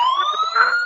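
A Hot Wheels Turbo Racing toy car gives off an electronic siren effect, a loud, steady, slowly rising wail heard close and alone without voices.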